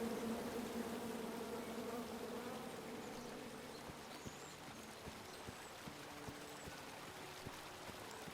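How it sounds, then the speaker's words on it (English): A swarm of bees drones with a steady, fairly faint buzz in the King's Quest video game, fading somewhat midway as scattered soft clicks and taps come through. "Come at me, bees!"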